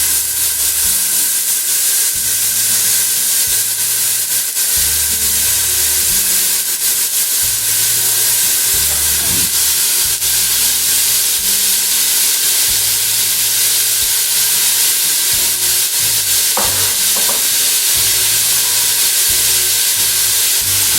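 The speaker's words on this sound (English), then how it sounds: "I have my stock pot heating up. I'm going to add a tablespoon or so of olive oil. And I want to start the onions cooking." Onions cook in olive oil in a heating stock pot, giving a steady, loud hiss and sizzle that runs unbroken throughout, with a low rumbling hum underneath and no talking.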